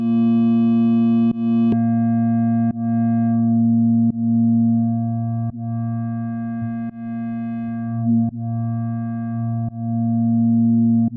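A steady synthesizer tone from the Vital synth drones continuously, its timbre subtly pulsing and repeating every second or so from a stereo LFO varying between left and right, loud and alone.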